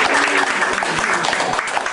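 Classroom audience applauding, a quick patter of many hands clapping at steady loudness for about two seconds.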